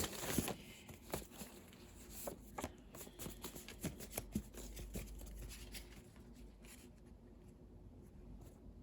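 Tarot cards, stiff with age, are shuffled close by in a steady run of soft riffling flicks and taps, quiet with no talking.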